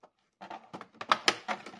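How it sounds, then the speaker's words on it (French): Several short crackling, ripping bursts close by, adhesive tape on packaging being torn and cut in uneven spurts with brief pauses between. "Si j'arrive à couper le scotch."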